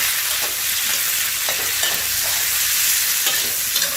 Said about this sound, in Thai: การจะใช้วิธีการผัดแบบเร็วๆ นะคะ พริกหวานสามสีค่ะใส่เลยค่ะ